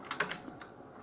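Quick burst of typing on a computer keyboard during Sims 4 play, a few crisp clicks in rapid succession, faint and close, with no voices.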